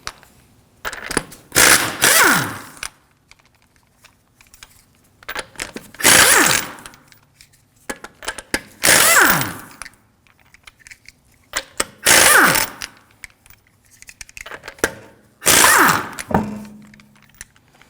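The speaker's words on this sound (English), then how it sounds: "To remove the wheel, we're going to use a 19mm socket." A 19mm socket on an impact wrench loosens the lug nuts on a 2013-2015 Subaru XV Crosstrek front wheel, five loud rattling bursts of about a second each, separated by pauses, close up and without talk.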